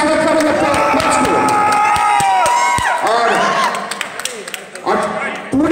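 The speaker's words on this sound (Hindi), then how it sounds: "सारे प्लेयर्स के माध्यम से जोरदार ताली से स्वागत करेंगे कोच को" A lively crowd of players at a state karate championship cheers and claps loudly for the coaches, with shouting voices and whoops layered over steady applause close by.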